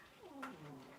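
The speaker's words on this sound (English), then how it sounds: "my cats are fighting over who gets to sit at the window and scare the birds" Cats fight by a window, one short, faint, drawn-out yowl with a wavering pitch.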